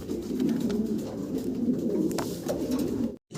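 Pakistani Teddy pigeons coo steadily in low, throaty rolling calls, close by and continuous, with a brief silent gap near the end.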